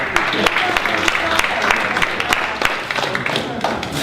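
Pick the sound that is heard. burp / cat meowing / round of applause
round of applause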